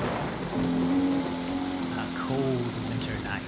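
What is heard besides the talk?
thunderstorm sound effect in a kids' homemade movie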